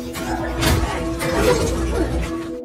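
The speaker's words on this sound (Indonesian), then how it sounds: "Rana seketika menghantam Kit dengan botol kaca" A glass bottle shatters with a sharp crash, shards scattering amid a noisy, chaotic fight.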